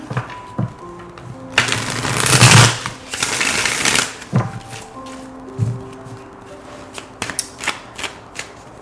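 A deck of tarot cards is shuffled up close, with a long riffling burst followed by scattered taps and flicks as the cards are squared and handled. No one speaks.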